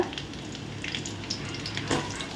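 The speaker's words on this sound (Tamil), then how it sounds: "இப்போது ஒரு ரெண்டு வெங்காயத்தை கட் பண்ணி இதில் போடுறோம் கூடவே பச்சை மிளகாய் மூணு பச்சை மிளகாய் போட்டுக்கோங்க" Sliced onions and green chilies sizzle in hot oil in a kadai, a steady close frying hiss with a brief stirring swell near the end, no voices.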